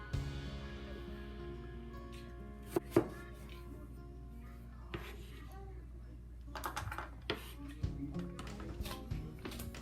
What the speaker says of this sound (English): Then we slice it very thin.